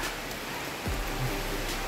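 Steady rain pours on sacred Mt. Banahaw in the Philippines, a dense, even hiss close by with a faint low thump partway through.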